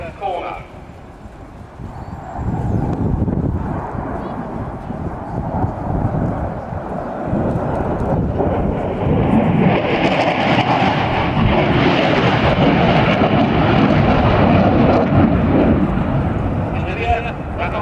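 A French Air Force Dassault Rafale fighter jet roars through a flying display, its engine noise swelling loud and sustained over a voice talking throughout.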